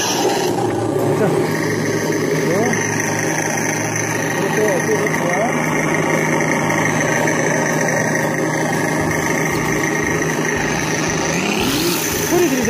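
An upgraded VTX Dokdo 2 RC car sound unit runs continuously with a steady idling engine drone and slight revving, loud and close, while someone talks over it.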